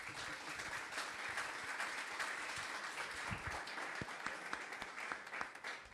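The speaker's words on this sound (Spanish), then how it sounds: "Un aplauso." An audience at a Startup Grind event gives a round of applause, a dense, moderately loud patter of many hands that continues evenly with a few sharper close claps standing out near the end.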